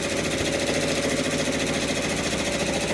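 A home embroidery machine stitching out an OESD Christmas tiling scene design, its steady mechanical whir and rapid needle rattle running continuously and loud throughout.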